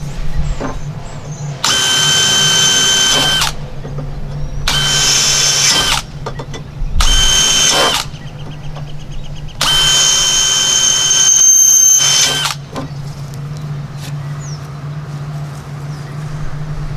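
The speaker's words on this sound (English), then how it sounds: "I'm going to drill a couple holes in this" A power drill bores holes in a light box during vinyl siding work, four loud whining bursts of a few seconds each separated by short pauses, close up over a low steady hum.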